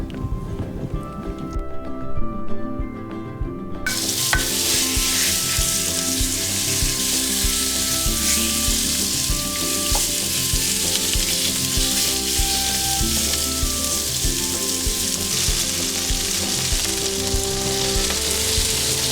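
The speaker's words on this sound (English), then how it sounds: "once the oil heats up, we're going to put in our chicken." Chicken sizzles and crackles loudly in hot oil in a pan, starting quieter then jumping to a dense, steady frying hiss that continues to the end.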